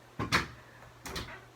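A door in a scrap room is opened, giving two short muffled bumps about a second apart against a quiet room, with no talking.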